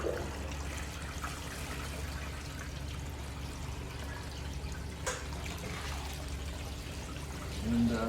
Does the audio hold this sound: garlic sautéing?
no